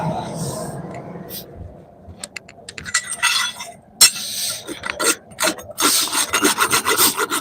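A hand rasp scrapes across the weld surface of a hand-forged splitting axe head, starting sparse and growing into quick, loud rasping strokes with a few metallic clinks and soft breathy noise near the start.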